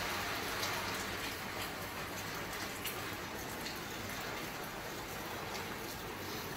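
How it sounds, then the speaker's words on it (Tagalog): Heavy, unbroken rain pours down during an evening storm in Sepa, a dense steady hiss of drops on surfaces that holds level from start to finish with no pauses. "wala nang tigil ng ulan."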